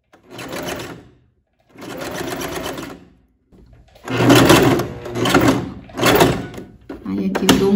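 A sewing machine stitches bias binding onto a canoe-neck blouse in loud, close bursts: two short runs separated by pauses, then a quicker series of stitching spurts with brief stops between them.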